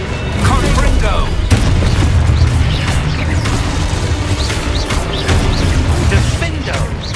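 A Confringo blast spell in Hogwarts Legacy, with booming fiery bursts and crackling impacts over dense battle noise, layered with shouted voices throughout.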